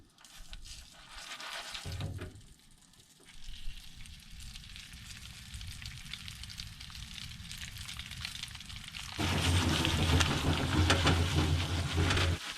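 Stovetop popcorn sizzles in a pan, a steady crackling hiss that grows louder and denser toward the end, heard up close.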